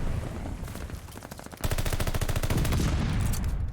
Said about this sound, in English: Going to have the automaton in hand. Shoot some shots, going to connect those bullets across the map.